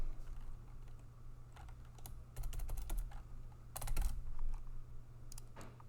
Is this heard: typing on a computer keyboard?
yes